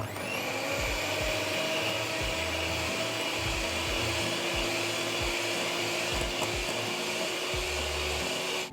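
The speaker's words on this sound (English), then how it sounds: "So I'm going to use a hand mixer, whisk until soft peaks." An electric hand mixer whips cream for a chocolate cake, a steady, close motor whir holding one pitch throughout, with faint rhythmic thumps of the beaters against the bowl.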